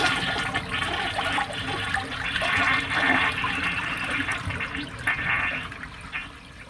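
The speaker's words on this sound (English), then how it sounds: "Let's give it its final flush, shall I?" A Mansfield toilet flushing up close, a loud rushing gush of water swirling down the bowl and draining steadily for several seconds, with no talk.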